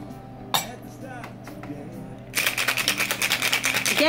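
A metal drink can being pried open with a spoon while making a piña colada, a sharp clink near the start followed by a burst of rapid, loud metallic rattling and scraping toward the end.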